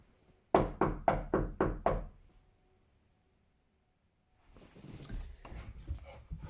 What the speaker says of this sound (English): Rose knocked on Mr Wintergarten's door.